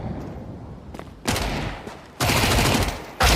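MAC-10 submachine gun fire in a competitive shooter video game: bursts of rapid automatic shots, with a short burst, then two longer loud sustained bursts separated by brief pauses, close and dominant.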